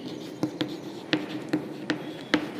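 A hand writes numbers during a maths lesson, making six short, close scratchy strokes at a loose, steady pace over a quiet background.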